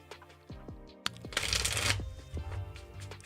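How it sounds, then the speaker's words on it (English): Tarot cards being shuffled by hand, with quick riffling bursts and soft slaps of the deck close by, building to a dense flurry in the middle before settling into lighter shuffles; no one speaks. "Let me shuffle."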